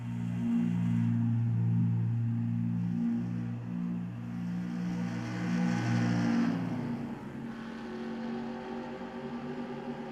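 Stock car engines from NASCAR Racing 2003 drone steadily at high pitch, several cars running together in a sustained, loud layered roar that shifts slightly as they pass.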